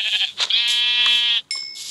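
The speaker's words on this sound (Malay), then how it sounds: "Ada biri-biri. Ini dia untuk maksa aku. Sini biri-biri." Minecraft sheep bleat twice, close and clear: a long wavering baa followed by a short second call, with no speech over them.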